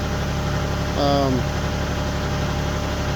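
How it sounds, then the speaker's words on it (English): A tractor engine idles steadily while warming up, a low constant rumble and vibration throughout, with a brief tonal whine rising over it about a second in. "The tractor sounds a little better."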